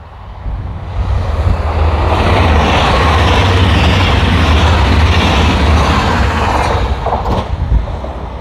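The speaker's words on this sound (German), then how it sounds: "Und ich höre Züge." A Westfalenbahn regional passenger train passes close by in Germany, a steady loud rumbling roar that builds within the first second and holds throughout, with a brief higher clatter near the end.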